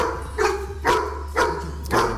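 A dog barks four times in an even rhythm during an aggression training session, each bark loud and close, with a steady low hum underneath and no talk.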